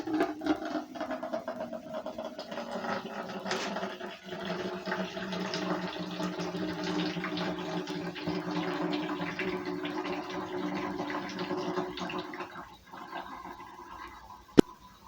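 Water draining steadily from a basement tank, a continuous rushing gurgle lasting about 13 seconds before tapering off, with a sharp click near the end.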